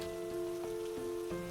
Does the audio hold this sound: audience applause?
no